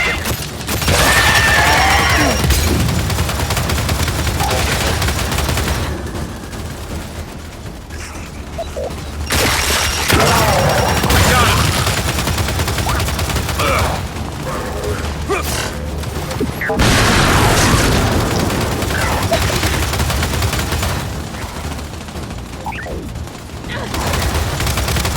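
Mounted turret guns in Gears 5 fire in long, loud, rattling bursts broken by short pauses, with mechanical clatter and grunts mixed in.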